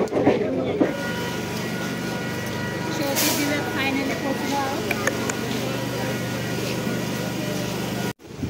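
A Vasai–Virar local train carries a steady, loud rumble of wheels and carriage through the whole stretch, with a brief louder burst near the middle and crowd voices mixed into the din.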